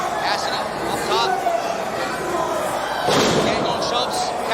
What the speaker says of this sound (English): Gangone shoves Cassidy off.